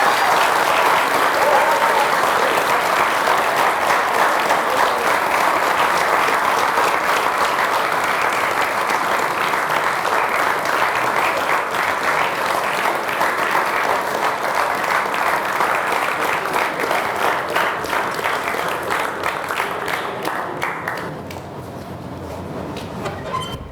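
An audience at a live mind-reading show claps in loud, sustained applause that runs unbroken for about twenty seconds before fading slightly at the end.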